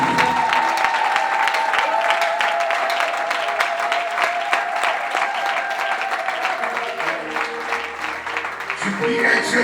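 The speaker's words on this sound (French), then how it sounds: "Applaud for Jesus." A church congregation claps in steady, dense applause for Jesus during a service, with a sustained voice or tone running over the clapping.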